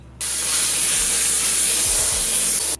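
Steam cleaner disinfecting gym equipment, a loud continuous hiss of steam that starts abruptly, holds steady for over two seconds over a faint low hum, then cuts off sharply.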